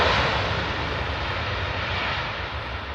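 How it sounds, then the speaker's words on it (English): Airliners coming in to land at London Stansted Airport on a hot summer day, a steady, loud broadband roar of aircraft engines holding throughout with no talk. "Just come and watch the planes pooter in."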